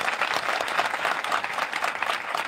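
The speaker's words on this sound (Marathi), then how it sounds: "यांच्यासाठी आणि तुमच्यासाठी आणि माझ्यासाठी एकदा जोरदार टाळ्या वाजा" An audience claps enthusiastically at a speech event, a dense, sustained burst of applause that fills the whole moment at close range, with no speech over it.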